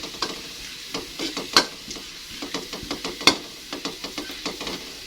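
Ingredients browning in a hot pan for a cassava-leaf vegetable dish sizzle steadily while a utensil scrapes and stirs in quick repeated strokes, with two sharper clinks standing out, all close and with no talking.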